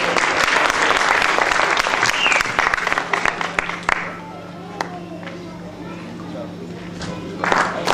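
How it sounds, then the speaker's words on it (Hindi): Loud applause from a crowd at an awards ceremony, dense clapping that fades partway through and then swells again near the end. "एक बार जोरदार तालियां"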